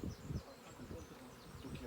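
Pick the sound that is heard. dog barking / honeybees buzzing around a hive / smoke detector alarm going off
honeybees buzzing around a hive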